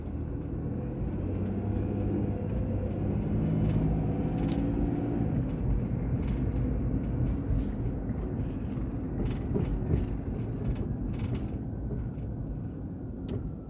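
A car drives through downtown Kokomo, Indiana, with a continuous low road rumble and tyre noise heard from inside the car and a few faint knocks.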